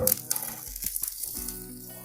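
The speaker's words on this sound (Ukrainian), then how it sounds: "На сковорідку додаю вершкове масло" Butter sizzles and crackles in a hot frying pan, a steady fizzing hiss with small pops, close up and fairly loud, no voices.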